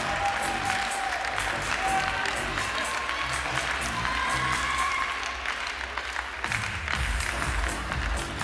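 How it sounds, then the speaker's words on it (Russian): An audience applauds youth-category ballroom dance semifinalists at a dance festival competition, a steady, dense wash of clapping that fills the hall without a break, with a faint crowd murmur underneath. "Аплодируйте им, поддерживайте."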